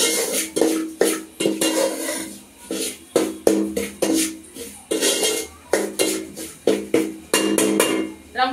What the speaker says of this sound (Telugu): ఇలా వేపుకుంటూ కలుపుకుంటూ ఉండాలండి.